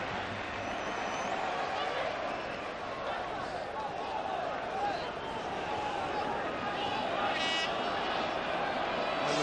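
A football crowd cheering at the Derry end during the 1994 cup final between Sligo Rovers and Derry, a distant, steady roar of many voices underneath a commentator talking.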